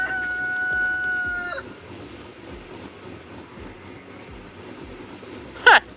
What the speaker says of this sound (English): there's a whole rooster in the tree.